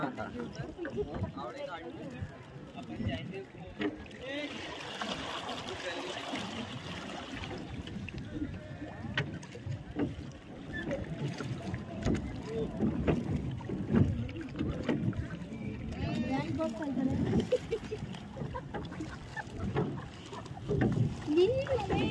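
Small boat moving on water at a picnic outing, with steady water and motor-like rumble running throughout beneath near, continuous talk and laughter from people aboard.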